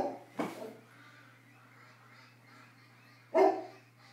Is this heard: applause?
no